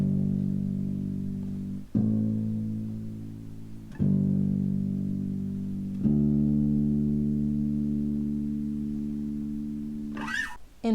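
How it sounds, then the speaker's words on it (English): A bass guitar plays a simple folk bass line: four sustained notes struck roughly every two seconds, each left ringing and slowly fading, quiet and alone, followed by a brief noisy rustle at the end. "In folk music, a common bass line or part that the bass plays might sound simple,"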